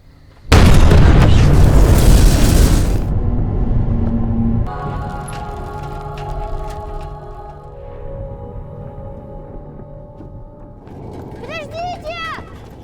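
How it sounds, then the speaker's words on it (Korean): In a film, the Chernobyl nuclear power plant explodes in a sudden, loud roaring blast lasting a few seconds. Lower rumbling and mechanical tones linger afterward, and a brief voice comes in near the end. "눈앞에 있던 체르노빌 발전소에서 큰 폭발이 일어나자"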